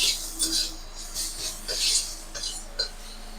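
Spices and ground black pepper being stirred in a pan with a spoon, light scraping and clinking strokes repeating at an uneven pace, close and fairly quiet.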